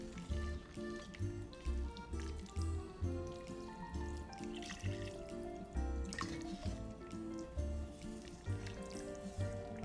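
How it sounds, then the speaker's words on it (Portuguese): Water is poured into a simmering beef and mushroom stew, making a close, continuous splashing trickle with a gentle bubbling rhythm beneath a backing track. "coloca um pouco mais de água agora para deixar ele cozinhar"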